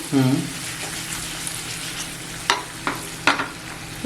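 Fish tikhale of Modak fish being stirred with chopped coriander in a hot oiled pan, a soft sizzle running throughout with a few distinct scraping knocks of the spatula near the end.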